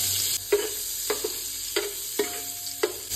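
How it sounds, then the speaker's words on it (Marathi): A spoon stirs butter melting in a hot pan on a home kitchen stove, with steady sizzling under a rhythmic series of scraping strokes about every half second. Nobody speaks. "आतां न्ही हितून थोडेशें बटर जें आसा पळय न्हू तें मेल्ट करून घेवया।"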